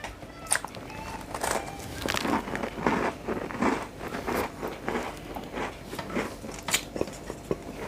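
Crunchy Cake Rusk crackers from Costco are bitten and chewed up close, with a run of sharp, irregular crunches and crackles close to the mic.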